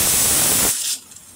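Water poured into a hot pan holding curdling yogurt gives a loud, broad hiss that drops sharply after under a second, leaving faint, brief sizzling.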